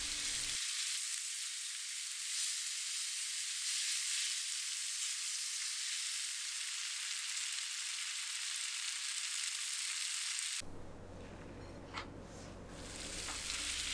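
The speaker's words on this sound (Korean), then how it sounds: "불려둔 쌀에 물을 모두 버리고 쌀이 색이 변할 때까지 2분 정도 볶아요." Soaked rice is stir-fried with vegetables in a pan, giving a steady close sizzle and frying hiss with faint stirring scrapes, dropping to a quieter simmer near the end.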